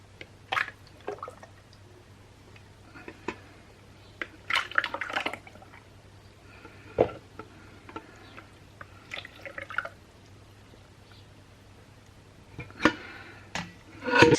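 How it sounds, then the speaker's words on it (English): Leftover white rose soap batter poured from a container and split between three jugs, with soft dripping and liquid splashes scattered over a steady low hum, plus a few sharper clinks and scrapes. "simply what I've got left in my container, I'm going to split that into 3 jugs"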